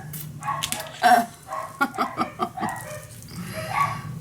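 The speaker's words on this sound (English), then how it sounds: "Dogs!" Several dogs bark and yip in short bursts over a steady low hum, some barks louder and closer than others, with no talk.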